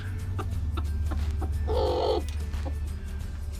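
Chickens cluck in a coop where forty hens sit on their eggs, a steady low murmur of fowl with a brief louder squawk near the middle.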